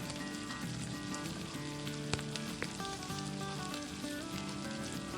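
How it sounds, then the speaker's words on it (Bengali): Coated chicken 65 pieces frying in hot refined oil, a dense, continuous sizzle and crackle that holds steady throughout, with a couple of sharper pops and no talk. "তেলটা যখন গরম হয়ে যাবে তেলের মধ্যে কোট করে নেওয়া চিকেনের টুকরোগুলোকে ছেড়ে দেব।"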